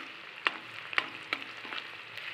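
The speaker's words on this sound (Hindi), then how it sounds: "तो प्याज और ये मिर्ची थोड़े से फ्राई हो जाएंगे और प्याज थोड़े ब्राउन हो जाएंगे" Onions and chillies frying gently in a pan over low heat, a soft steady sizzle with a few brief sharp crackles standing out, fairly faint and heard alone.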